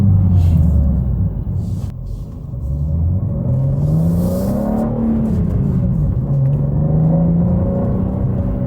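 A BMW G87 M2 with a manual gearbox is driven fast on wintry roads, its engine rising and falling in pitch through gear changes as a steady, close rumble with no talk.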